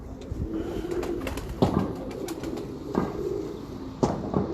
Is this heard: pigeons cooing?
yes